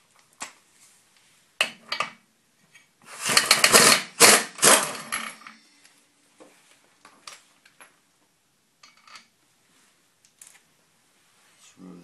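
A secondary clutch pulley bolt is loosened and removed with a tool, giving a dense burst of metallic ratcheting and clanking near the middle, followed by scattered lighter clicks and taps.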